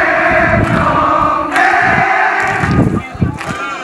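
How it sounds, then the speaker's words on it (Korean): Rows of marine recruits at boot camp clap in unison and sing a military song together, a loud massed chorus with sharp synchronized claps cutting through the voices. "도열한 1268개 훈련병들이 절도 있게 박수를 치며 브라보 해병을 부른다."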